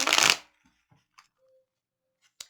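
Tarot cards riffled in one loud, dense burst lasting about half a second, followed by a few faint taps and card slaps, then a sharp final snap near the end.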